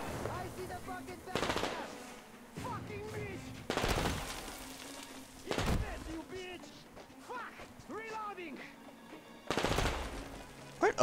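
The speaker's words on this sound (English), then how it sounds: "Where on earth am I getting shot from?" Gunfire in the video game Metro Exodus comes as several loud, sharp bursts spread through the clip, mixed with scattered game effects and voices.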